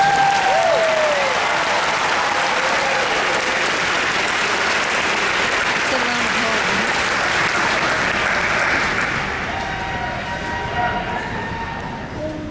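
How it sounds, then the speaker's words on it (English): An audience at a naval graduation ceremony applauds in a broad, sustained wash of clapping that continues steadily throughout and eases slightly toward the end, heard from within a large crowd. "How about a round of applause for their performance today, folks?"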